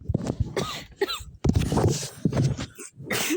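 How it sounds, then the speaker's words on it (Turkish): A person coughs several times in short, rough bursts separated by brief pauses, close and fairly loud with no talking. "bu arada sesimden ve öksürmemden dolayı sizden özür dilerim"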